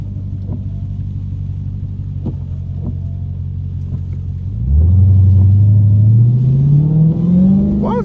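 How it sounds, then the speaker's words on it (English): A Dodge SRT Hellcat's engine sits in a low, heavy rumble, then revs up hard and climbs steadily in pitch as the car slides through a turn on a rain-soaked road. The sound is close and loud. "I guess sliding every turn in a big Hellcat."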